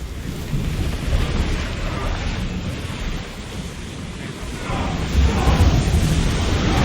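A ship sailing at sea in Assassin's Creed Odyssey, with loud roaring wind and rushing waves breaking against the hull, a constant dense wash that swells louder near the end, no voices.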